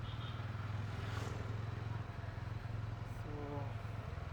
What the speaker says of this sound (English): I don't know how good exhaust sound is coming with this mic setup